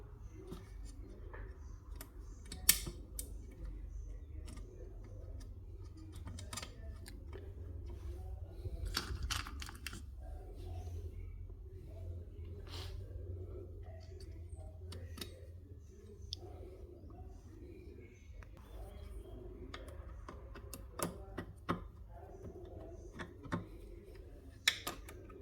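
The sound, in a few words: fitting the cover screws on a Kenwood A701A mixer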